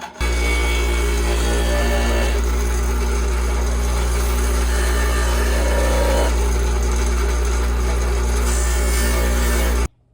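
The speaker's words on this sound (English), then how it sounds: "now we're gonna use a grinder" A power grinder running steadily and loudly for about ten seconds during a home shelving build, with a constant motor hum and rough grinding texture, then stopping abruptly at the end, with no talk.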